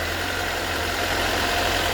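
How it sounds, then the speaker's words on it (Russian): A Mercedes 190 with the M102 2.0 petrol engine idles steadily with a suspected timing-chain knocking noise running through the constant, close engine drone. "Звук какой-то есть посторонний, вот такой. Думаем, что это цепь."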